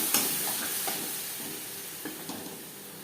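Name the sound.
frying spice paste with onions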